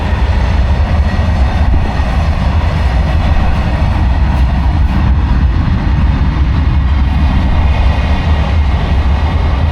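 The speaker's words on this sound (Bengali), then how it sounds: "মালগাড়ি" A long goods train runs by near the wrecked Ganeswari Express coaches, producing a continuous heavy rumble and clatter of wagons on rails, loud and near throughout with no speech.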